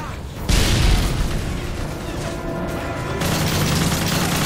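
A heavy grenade blast booms in the shooter game Call of Duty: Modern Warfare 3, a loud deep burst followed by rumbling combat noise and gunfire, with soldiers' voices faintly mixed in.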